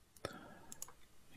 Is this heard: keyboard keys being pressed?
yes